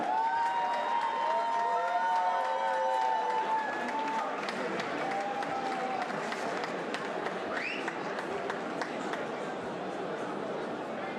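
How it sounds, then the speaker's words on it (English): A crowd at a white-collar boxing event in Dubai applauds and cheers both fighters in the ring, continuous clapping and shouts with chatter and excited voices throughout. "I want to give a massive round of applause for both fighters"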